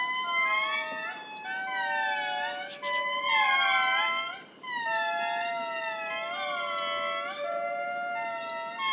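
Several gibbons calling in loud, overlapping warning whoops in the jungle that rise and fall like sirens, continuous and echoing.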